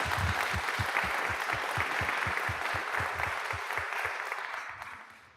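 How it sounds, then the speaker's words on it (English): An audience at an adult community forum breaks into sustained applause, a dense wash of clapping that holds steady for several seconds and then begins to taper off. "Can we give you a round of applause as a thank?"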